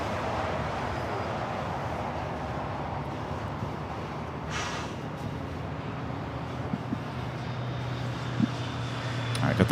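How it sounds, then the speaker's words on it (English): Boeing Dreamliner bound for Newark rolling down runway 25 right at LAX, a moderate, distant engine rumble building slightly toward the end, with talking over it. "got that Dreamliner heading to Newark. Now rolling down that 25 right."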